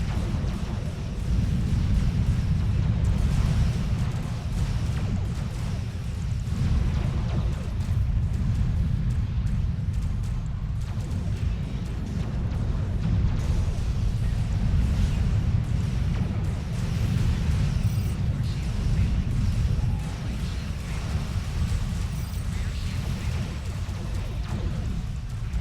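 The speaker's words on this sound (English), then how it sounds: "Look at the speed of which those photons fire." Photon torpedoes from a Kelvin timeline command cruiser fire in rapid succession during a Star Trek Online space battle, a dense, loud, continuous low rumble of launches and blasts with no pauses.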